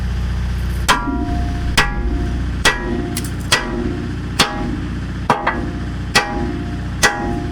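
Hammer blows ring out on metal during welding fit-up, about nine sharp, evenly spaced strikes roughly every 0.9 seconds over a steady low shop hum, each hit leaving a brief metallic ring.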